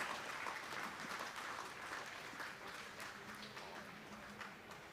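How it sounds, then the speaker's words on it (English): Outdoor crowd applause for riders at a cycling carnival in Launceston, faint and somewhat distant, a steady patter of clapping that slowly eases toward the end. "Give them a round of applause, the mighty Limit Riders."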